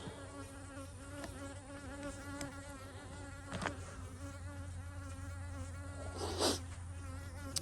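Close, steady buzzing of honey bees at an apiary hive, a dense droning hum that rises briefly in a few spots, with no talking.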